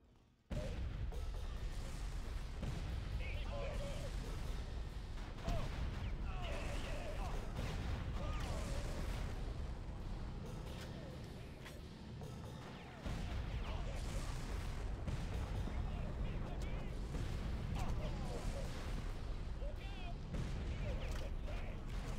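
Dense Far Cry 4 combat on PC: near-continuous gunfire and booming blasts including a grenade explosion, with a brief lull midway before the rapid shots and thuds resume, loud throughout.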